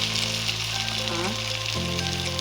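Spiced dried Rupchanda fish masala fries in a pan with a dense, steady hiss and sizzle, loud and close, over a faint humming tone throughout.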